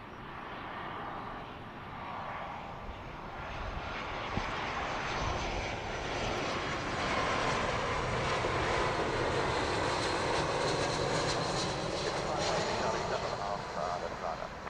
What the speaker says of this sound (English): This is flight 827 in from Dublin.